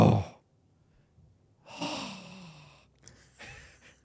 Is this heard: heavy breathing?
yes